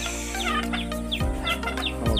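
A chicken clucks in a series of short, repeated, near calls over a steady background hum, with no talking.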